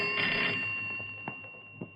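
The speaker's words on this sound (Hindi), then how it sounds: "टेलीफोन" A telephone rings in two short, clear bursts at a steady rhythm over a quiet room tone, close and moderately loud, with no talking.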